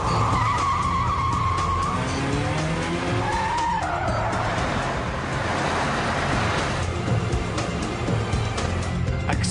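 A commandeered car accelerates hard with tires squealing and skidding, a loud close engine roar and sliding screech filling the scene continuously.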